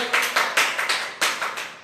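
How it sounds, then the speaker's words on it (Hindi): A few people clap in a room, about eight sharp claps in an uneven rhythm, close and fairly loud, with no voices over them. "तालियों से कमरा गूंज जाए सभी का"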